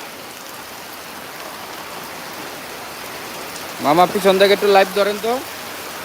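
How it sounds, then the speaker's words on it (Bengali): Steady heavy rain hisses over the outdoor Gabtoli cattle market, with someone speaking close by for a couple of seconds near the end. "প্রচুর বৃষ্টি হচ্ছে দেখেন"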